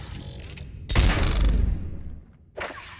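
Gunfire in the sci-fi shooter Mass Effect 3: a loud, dense burst of rapid shots with heavy low booms erupts about a second in, rolls on for over a second, then fades before a brief second burst near the end.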